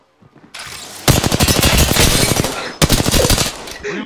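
Rapid automatic gunfire in the shooter game Apex Legends, a loud close burst of fast shots, a brief pause, then another burst trailing off, with no voices.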